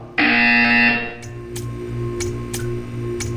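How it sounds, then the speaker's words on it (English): A loud electronic buzzer from the Portal 2 video game sounds once, a harsh sustained tone lasting under a second, followed by quieter sharp ticking clicks over a low mechanical hum. "You will hear a buzzer. When you hear the buzzer, stare at the art."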